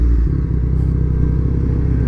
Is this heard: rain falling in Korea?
no